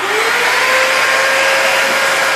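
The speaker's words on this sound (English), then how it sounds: "we're going to try to put a ponytail holder on with the vacuum cleaner" A vacuum cleaner runs loud and close with a steady high-pitched whine over a constant airy roar, unbroken from start to finish.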